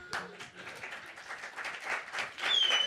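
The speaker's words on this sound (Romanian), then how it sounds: "Nu-l mai aplaudați." An audience at a live comedy stage show claps in a short, scattered burst of applause that swells slightly toward the end, with faint voices underneath.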